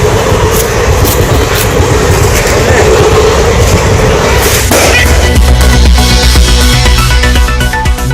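A train rolls along a railway track, starting as a loud rushing rumble and then turning to rhythmic clattering of wheels and carriages passing close by, with a voice faintly in the background.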